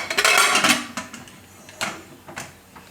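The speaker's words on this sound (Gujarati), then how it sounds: "અને કુકરનું ઢાંકણું બંધ કરી દે હું." A metal pressure cooker lid is fitted and closed over soaked chickpeas, with a loud burst of clattering and scraping, then a few lighter metallic clicks and knocks spaced out afterward.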